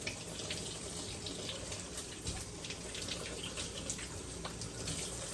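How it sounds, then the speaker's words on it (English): Tap water runs steadily into a sink while hands are washed under it, rinsing off soap and sourdough dough; a continuous close splashing rush with no talk. "Wash your hands real good."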